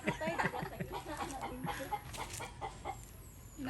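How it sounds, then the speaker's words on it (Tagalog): Chickens clucking close by in agitated bursts, with faint background noise and scattered voices. "Higukod niyang manok."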